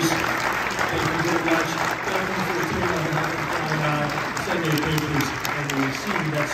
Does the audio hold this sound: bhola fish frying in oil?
no